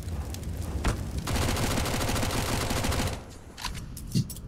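A CS:GO player empties a full magazine on Dust 2 in an ESL Pro League match between Complexity and Astralis. A long, steady automatic spray lasts about two seconds, followed by a few scattered single shots at moderate distance.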